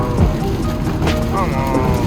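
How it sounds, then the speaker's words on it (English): Heavy rain pouring steadily, heard from inside a car on the road, a dense continuous wash of drumming with brief louder swells. "it is raining like crazy"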